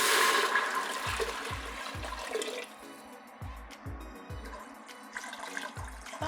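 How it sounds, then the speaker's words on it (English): Water pours and splashes steadily into a pot for vegetable broth, loud at first and then easing into a lighter running trickle with some clinks. "Sometimes easier if you just pour the water in partway into the pot."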